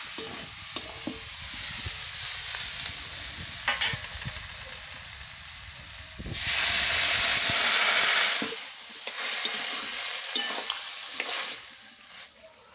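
Sautéed vegetables sizzle and hiss in a hot pan as water is poured in, flaring into a loud burst of steam before settling back to a crackling fry with stirring clatter, close and steady.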